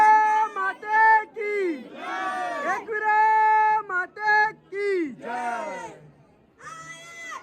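A crowd at the Ekvira Aai temple loudly chants 'Ekvira' in repeated rising shouts, strong voices calling out in bursts with short pauses between.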